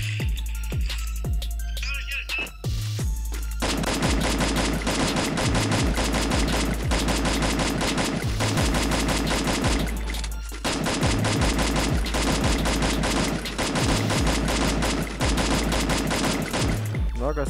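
Rapid bursts of video game gunfire dominate, automatic weapon fire rattling in long sustained volleys with brief pauses between, loud and close throughout.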